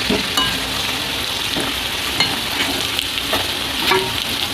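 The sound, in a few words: potatoes frying in oil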